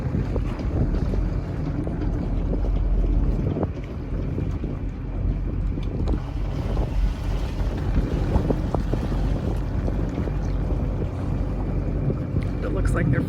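Gusty wind buffets the microphone at a marina fuel dock near a rail bridge on Block Island Sound while a boat is held steady, a loud, continuous roar with low rumble and water sounds.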